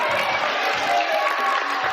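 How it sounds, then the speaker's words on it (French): A studio audience on a 1992 French children's game show applauds a winner with steady, even clapping and a faint crowd murmur throughout. "On applaudit Marie Ashley."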